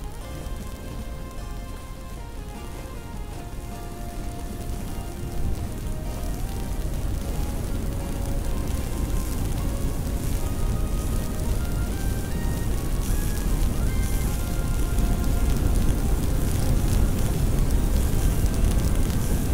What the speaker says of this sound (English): you hear the rain putting out, you know, hitting the hot fire